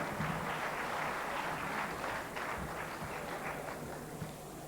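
An audience at a 1993 Pakistani Independence Day gathering applauds to welcome a speaker, heard as a sustained, distant crowd clapping that is faint and slowly fades.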